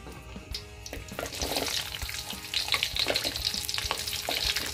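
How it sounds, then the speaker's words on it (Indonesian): Oil sizzling and crackling steadily as sliced chilies and shallots fry in a pan, growing louder and busier toward the end, with faint stirring. "Nah, ini semuanya sudah diiris-iris, kemudian kita goreng ya."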